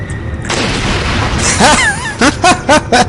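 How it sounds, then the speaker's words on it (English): A dynamite blast in Resident Evil 4 erupts as a loud broadband boom, followed by a string of short sharp bursts and chirping game effects near the end. "I didn't know he was just gonna explode like that. I must have shot the dynamite."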